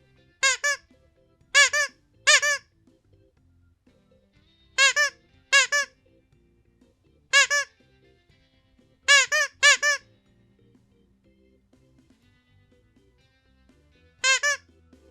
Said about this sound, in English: This is a legit rubber squeak toy